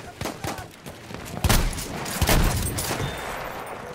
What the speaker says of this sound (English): I may have shot my teammate.